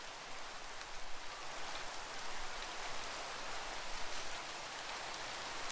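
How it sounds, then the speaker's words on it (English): Rain falls steadily in a video game, a smooth, even hiss of drops spread across the whole stretch with no pauses, moderately soft and without voices. "Oh, it's raining."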